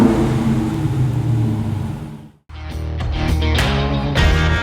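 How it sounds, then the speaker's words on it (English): A 2023 Dodge Super Bee muscle car rumbles loudly, its exhaust dropping out for a split second before the engine roars back in a series of hard revs, close up. "there's no mistaking the sweet sound of the exhaust as anything other than pure muscle"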